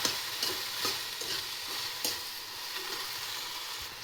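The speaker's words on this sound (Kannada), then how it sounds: "ಎಲ್ಲದನ್ನು ಚೆನ್ನಾಗಿ ಮಿಕ್ಸ್ ಮಾಡ್ಕೊಳ್ಳಿ. ಮಸಾಲ ಐಟಮೆಲ್ಲ ಚೆನ್ನಾಗಿ ಮಿಕ್ಸ್ ಆಗಲಿ." A spoon scrapes and stirs okra curry with masala in a pan, soft repeated strokes over a faint sizzle, close and fairly quiet.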